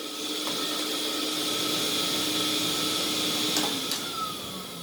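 A vacuum cleaner runs steadily while cleaning a lawn mower, a constant droning whir with a few faint knocks and scrapes over its even hum.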